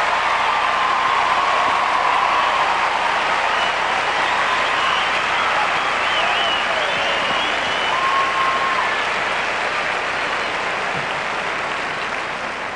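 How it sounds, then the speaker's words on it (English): A crowd at Wimbledon's 1997 fourth-round match between Henman and Krajicek bursts into loud, sustained applause and cheering, a dense roar of clapping that holds steady and fades slightly toward the end, with occasional whistles. "This crowd absolutely going wild with excitement now."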